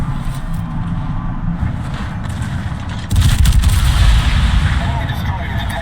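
Main gun salvos from the battleship Illinois in a naval combat game, a rumbling low barrage that swells into a louder, heavier roll of booming fire halfway through.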